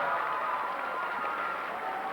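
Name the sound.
basketball crowd applauding a free throw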